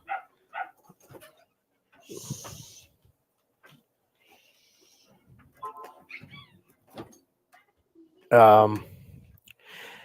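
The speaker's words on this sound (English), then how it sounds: "Could probably hear my dogs" Dogs give a few short barks and whimpers, with one louder bark burst near the end, amid sparse background noise.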